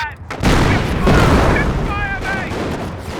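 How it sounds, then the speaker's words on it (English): A Panzer tank in Company of Heroes fires in rapid succession, heavy booming cannon shots with rolling tails over battlefield noise, close and loud, with faint game sounds after. "The Panzer is able to fire more quickly."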